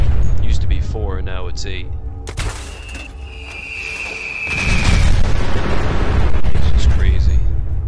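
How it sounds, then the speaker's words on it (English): Explosive blasts from a MIRV launcher with the two-shot mod in Fallout 4, loud booming bursts with a whistling projectile streak, rolling into heavy sustained rumble while someone talks over them. "we got the MIRV launcher. The two-shot does work on it."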